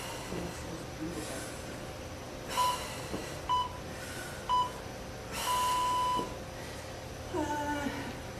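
A workout interval timer gives three short beeps, then one long tone, then a couple more short beeps, over a faint background hiss.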